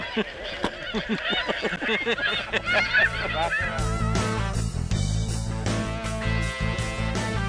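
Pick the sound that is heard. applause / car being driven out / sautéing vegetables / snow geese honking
snow geese honking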